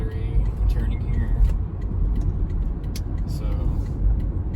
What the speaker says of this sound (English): Accelerating here, engine turns back on.